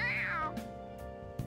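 A voice actor in the video game Persona 5 Royal imitates a cat with a drawn-out, high meow that slides downward, then gives a couple of short, softer mews over quiet game music.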